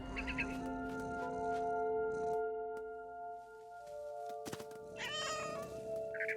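A cat meows a few times over a steady musical background in the video game What Remains of Edith Finch, the cries close and clear among some light thumps.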